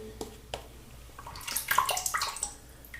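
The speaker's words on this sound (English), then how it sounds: "I'm going to add a bit more water to that." Water splashes and trickles as more is worked into a shave soap lather in a bowl or brush, a short soft burst of wet sloshing and dripping that builds through the middle, close and fairly quiet.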